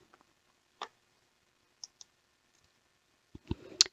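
Computer mouse clicking while saving a file: a few isolated sharp clicks spaced by short pauses, then a slightly busier cluster of clicks at the end, close and quiet.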